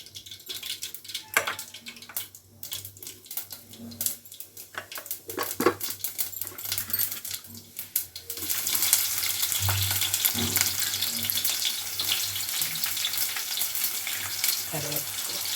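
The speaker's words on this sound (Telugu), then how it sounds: "పోపు దినుసులు వేస్తున్నా." Tempering spices are tossed into hot oil in a pan for okra fry, crackling and sizzling loudly after quieter clinks and kitchen sounds, then a steady close frying hiss takes over.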